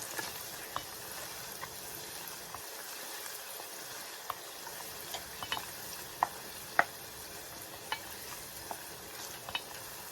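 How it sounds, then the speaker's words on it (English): Onions fry in hot oil in a pan, a quiet, steady hiss with occasional light clicks and scrapes of a utensil stirring them. "I'm just gonna put our onions in there and then fry it without it being on fire."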